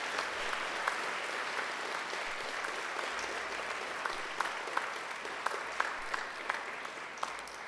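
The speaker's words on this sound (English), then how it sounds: "And now I invite you to give them a mighty round of applause." Graduation ceremony audience clapping, a moderate, somewhat distant patter of many hands with a few sharper individual claps standing out, and no voices.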